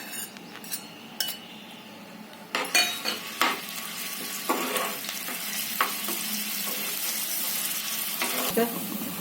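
Green chilies frying in oil in a pan: a quiet sizzle that turns busier after a few seconds, with irregular spattering pops and clinks of stirring, close by and moderately loud.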